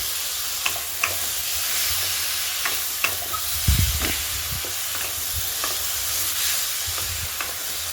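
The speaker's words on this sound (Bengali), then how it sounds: "এই পর্যায়ে 1 চামচ মতন লবণ দিয়ে দেবো, দিয়ে ভালো করে আলুর সাথে মাখিয়ে নেবো।" Potatoes frying in a pan while being stirred with salt, a loud continuous sizzling hiss with scattered light scrapes and a brief heavier clatter midway.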